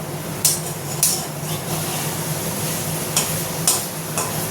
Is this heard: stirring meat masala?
yes